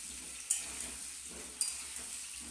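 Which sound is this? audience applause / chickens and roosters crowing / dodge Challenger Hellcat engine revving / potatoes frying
potatoes frying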